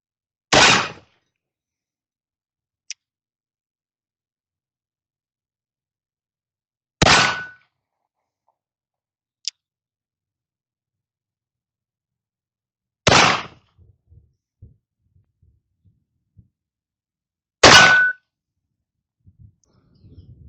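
An 1862 Dance Brothers cap and ball revolver firing at a small steel target about 20 yards away: four sharp, loud shots spaced several seconds apart, each followed by a faint distant clang, with quiet between and no talk.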